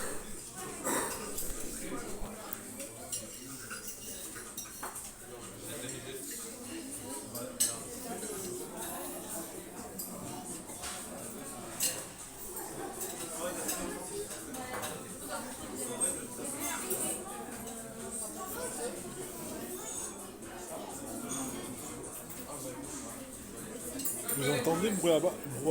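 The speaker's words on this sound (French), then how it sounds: "Vous entendez le brouhaha quand il n'y a pas de musique?" Restaurant dining room with a steady hubbub of many voices and scattered clinks of dishes and cutlery, continuous throughout with no music.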